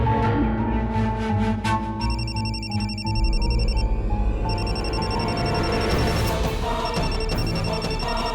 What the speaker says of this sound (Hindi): हाँ लेकिन तुम्हारा फोन बज रहा है